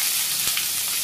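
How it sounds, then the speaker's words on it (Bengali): Leafy greens hit a hot pan with onion, green chili and cumin in oil, giving a close, continuous sizzle with a brief crackle partway through. "শাক দিয়ে দিই।"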